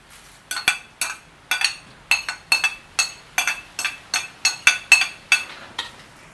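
Prawn sambal being stirred with fried onion, garlic and curry leaves, a spoon clinking sharply against the pot in a quick, rhythmic run of about a dozen metallic taps, close and alone.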